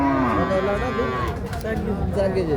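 A Friesian dairy cow at a busy cattle market lets out a long, loud, close moo that fills nearly the whole stretch, with faint crowd chatter underneath.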